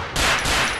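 A rapid, loud burst of gunfire fills this short moment in the video game LCPDFR, with dense overlapping shots close by and no voices.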